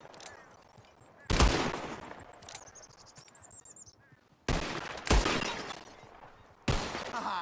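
Gunfire rings out in Red Dead Redemption 2 as bottles are shot, loud sharp reports in three separate bursts with glass shattering between them, over faint background ambience.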